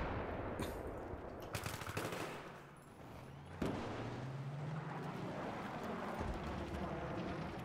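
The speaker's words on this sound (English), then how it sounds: "there's enemy infantry shooting at our tanks" Gunfire in the Battlefield 3 video game, with bursts of rapid automatic shots and heavy booming blasts amid rumbling vehicle noise, a dense battle soundscape throughout with some faint talk.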